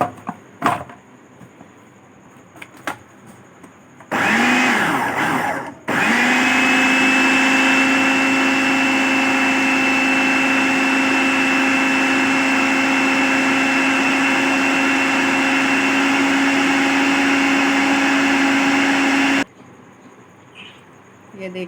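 An electric blender grinds ginger and garlic into a thick paste, a loud steady motor whir running for about fifteen seconds after a short first burst, with quieter kitchen noise before and after.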